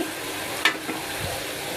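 Chopped onions sizzle in hot oil in a pan for a spinach and small puti fish curry, a steady close hiss broken by one brief utensil clink.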